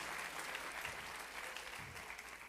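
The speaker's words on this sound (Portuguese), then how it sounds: "A salva de palmas para quem é voluntário e está aqui hoje" Audience applause for volunteers at a gathering, a steady, dense wash of many hands clapping that stays fairly faint and even from start to finish, with no voices over it.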